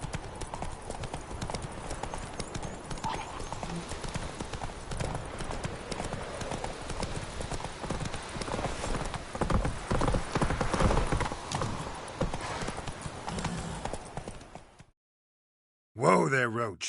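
Roach the horse trots in The Witcher 3, steady clip-clop hoofbeats under a rumble of movement and faint groans, cutting out briefly near the end before the sound resumes.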